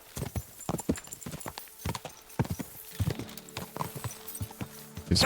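Irregular clip-clop of horse hooves on the ground in Kingdom Come Deliverance 2, close and fairly quiet, with a faint horse snort near the end.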